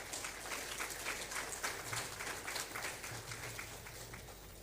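An audience at a Supreme Court 150th anniversary celebration applauds, a faint, steady wash of many hands clapping heard at a distance without any talk over it.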